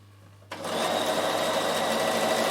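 A Bernina sewing machine starts stitching fabric after a half-second of quiet, then runs at a steady fast whirring hum, close and loud with no talk.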